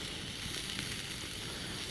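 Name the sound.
food sizzling in cast iron pan while camping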